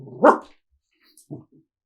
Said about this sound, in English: You're a guard dog.